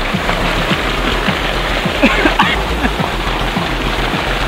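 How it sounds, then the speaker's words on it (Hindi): Cold water splashing as people bathe outdoors, a continuous rushing, rain-like wash with scattered louder splashes throughout, fairly close. "पानी में हम लोग नहा रहे हैं।"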